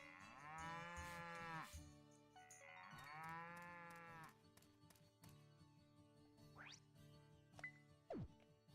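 A cow in a cozy farming video game gives two long, loud moos in a row, followed by softer tonal game chimes and effects.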